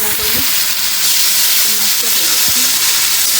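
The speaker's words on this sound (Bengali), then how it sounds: "এই তো মাছ ভাজা নিচ্ছি আলু দিয়া" Fish frying together with potatoes in a pan, a steady dense sizzle filling the whole stretch, with a few low clatters of utensils near the start and midway.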